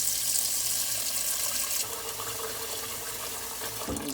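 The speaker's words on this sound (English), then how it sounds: "I'm going to cover it with water." Tap water runs steadily into a cooking pot of pig tails, a close, continuous gushing fill whose tone shifts partway as the water level rises.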